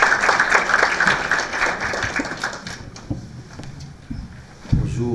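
Audience applause at a lecture on Moroccan cinema, with dense clapping at first that thins out into a few scattered claps and fades toward the end.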